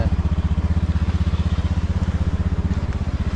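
A motorcycle engine idles close by, its steady low throb pulsing in a fast even rhythm throughout, loud and alone with no talking.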